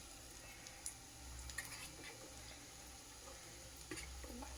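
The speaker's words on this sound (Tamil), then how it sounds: "நம்ம காலிஃப்ளவர் போடும்போது எண்ணெயில் ஒன்று ஒன்றா தனித்தனியாக போடுங்க" Cauliflower bajji pieces frying in hot oil, a faint continuous bubbling sizzle with a few soft clicks and drips, fairly quiet and distant, with no talk.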